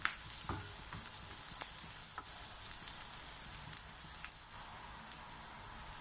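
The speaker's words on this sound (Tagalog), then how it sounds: "continue to saute this for a few seconds hanggang lumabas po ang kanyang bango" Garlic and onion sautéing in a pan for pork adobo give a steady, faint sizzle with scattered small pops and clicks throughout.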